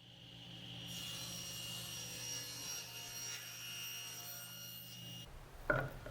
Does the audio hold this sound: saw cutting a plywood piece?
yes